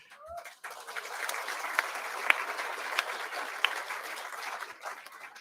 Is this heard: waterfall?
no